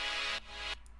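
A layered synth orchestra patch, the Big Orch preset from Echo Sound Works Sphere, plays a dense sustained chord that cuts off briefly, swells again, then drops away with a faint tail; no voices.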